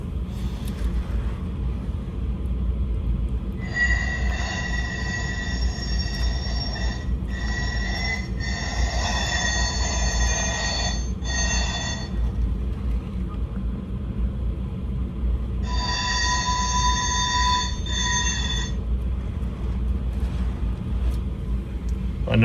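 A model train Squealer sound module produces high, shrill wheel squeal in two bursts, a long one broken by brief gaps and a shorter one later, over a steady low rumble of the running train with no talking.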